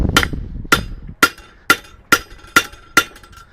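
Steady hammer blows ring out on a blacksmith's cutoff tool set against steel, seven sharp metallic strikes evenly spaced about half a second apart, close and loud with bright clanging overtones and no talk.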